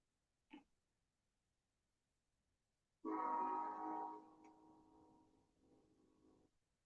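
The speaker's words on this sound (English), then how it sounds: "Boy, that train is loud." A loud passing train sounds a long, droning horn blast that fades after a few seconds, following a brief faint noise and an otherwise quiet room.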